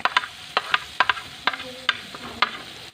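A spoon stirs chopped carrot, tomato, capsicum and green chilli in a pan for a vegetable omelette, making a run of sharp, close clinks and scrapes in an irregular rhythm over a faint sizzle.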